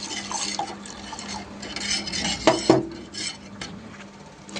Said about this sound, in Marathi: आता आपण इथे ही कस्टर्ड पावडर कालवलेली ती घालून घ्यायची याच्यात आणि दूध सारखं हलवत राहायचं